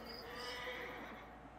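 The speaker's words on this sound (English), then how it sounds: "You know a thing or two about horses." A horse neighs in the video game Assassin's Creed Origins, a faint whinny set against a quiet ambient bed with no talk.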